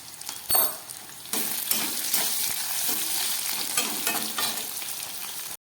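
Potato and pointed gourd pieces frying in oil with salt and turmeric, a loud continuous sizzle broken by sharp stirring scrapes and clatters of a utensil in the pan, with no talk.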